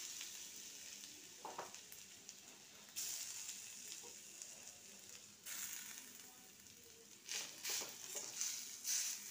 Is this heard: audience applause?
no